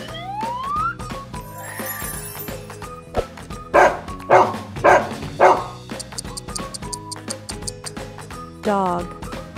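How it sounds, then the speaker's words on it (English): A series of five or six loud, clipped barks in a quick rhythm, set against background music with a rising siren-like tone. "Dog."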